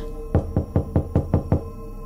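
Six firm knocks on a wooden door, evenly spaced and close, with no voices present.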